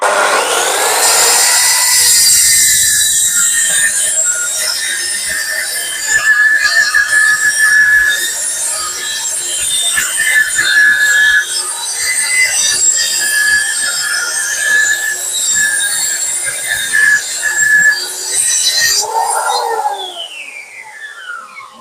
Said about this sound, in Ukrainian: Так, що, починаю різати. Так, глибина на максимум.